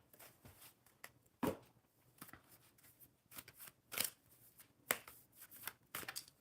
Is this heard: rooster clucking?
no